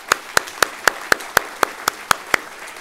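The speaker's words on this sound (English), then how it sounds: "I'd like to give them a really great round of applause." At a tech event reception, steady, evenly spaced claps ring out one by one, about ten sharp strikes in a regular rhythm over a quiet room.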